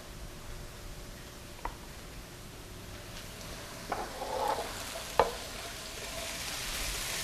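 Onion and red pepper cook in a pan on a home stovetop, a soft continuous sizzle with a few sharp utensil clicks and scrapes as the pieces are stirred around, and a brighter hiss swelling near the end.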